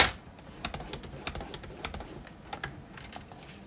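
A scoring blade is drawn along paper on a paper trimmer, making a string of light, fairly close tapping clicks with no talk.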